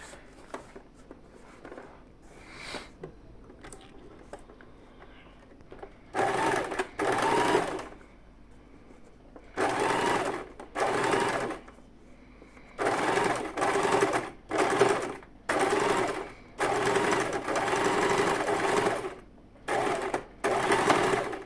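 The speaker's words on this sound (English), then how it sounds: "you take it to the sewing machine and you just sew like so." A sewing machine stitches African fabric for a bag in repeated bursts of rapid stitching, each lasting a second or two, separated by short pauses and quiet handling noises.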